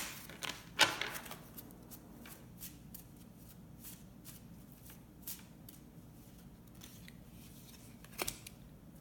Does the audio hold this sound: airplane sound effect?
no